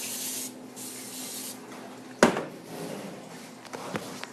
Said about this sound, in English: I'm just going to spray my pan so they don't stick after I baked them